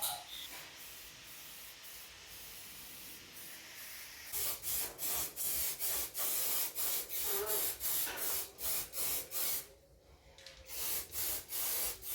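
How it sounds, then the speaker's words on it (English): Rattle can spray paint going onto a Citi Golf Mk1 car part to cover rust, heard as a faint steady hiss and then a run of short, rhythmic spray bursts close to the mic with no talking. "I'm just rattle canning it that it can look better and stop the rust a little"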